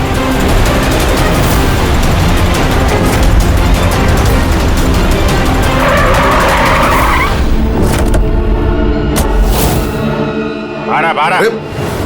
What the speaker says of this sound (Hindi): वो रही कार।